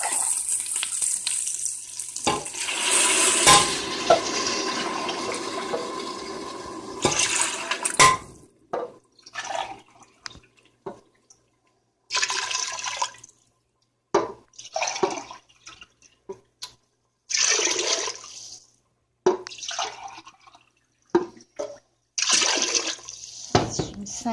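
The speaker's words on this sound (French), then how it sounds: "On va rajouter de l'eau." Water is poured in repeated separate bursts over red lentils in a pot for Turkish red lentil soup, a long first pour then several short splashing pours with pauses and some talk between.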